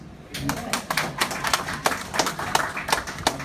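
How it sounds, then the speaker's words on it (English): Indoor audience at a sales training session gives a short round of applause, a dense patter of quick sharp claps at moderate distance lasting a few seconds. "Can I get applause?"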